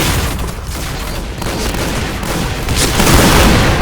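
Grenade blast and surrounding gunfire in the online shooter Point Blank, a loud, dense, continuous barrage of booms and shots swelling louder toward the end, with no speech over it.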